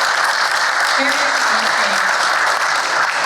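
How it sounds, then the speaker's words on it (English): Audience applause fills a meeting room, a steady dense wash of clapping throughout, with a speaker's voice briefly heard over it. "I just want to pause there to give a little applause for that"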